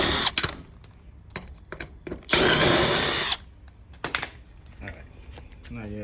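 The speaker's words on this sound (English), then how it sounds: "So all you gotta do is just undo these 4 screws." Power drill backing out four screws on an LG washer, several short whirring bursts with one longer run, close, among clicks and handling noise.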